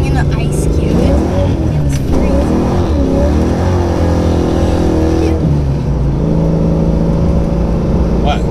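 A 1992 Ford Mustang 5.0 Foxbody notchback accelerating hard, its loud engine note rising and falling in pitch through repeated revving sweeps, heard up close from inside or beside the car.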